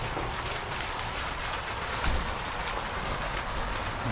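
Water from a DIY pond fountain, built with a pump and PVC pipe, splashes steadily into a barrel, giving a constant close hiss of falling water with no pauses.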